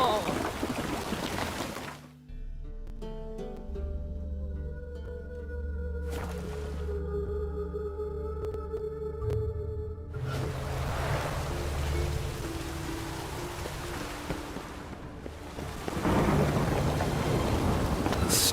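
Thunderstorm with steady rain in The Witcher 3, a dense wash of rainfall interrupted by quieter stretches with low rumbling, then the downpour surging back loudly near the end.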